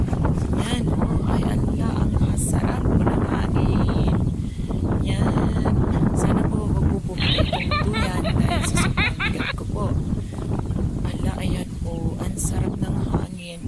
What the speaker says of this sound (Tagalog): Ayan po, naririnig ninyo. Ang lakas ng hangin, no?